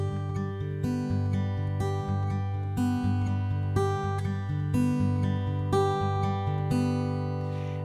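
Acoustic guitar fingerpicking an alternating pattern in even sixteenth notes, bass strings alternating under ringing treble notes, steady and clear at moderate volume with no talking.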